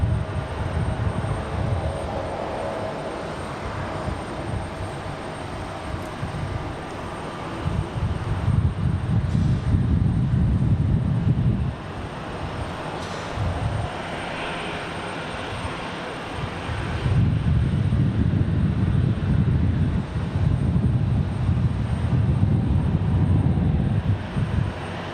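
A Delta Connection CRJ regional jet departs Raleigh-Durham airport with a loud, broad engine roar that rises and falls in surges over the whole stretch, heard from outdoors with no talk.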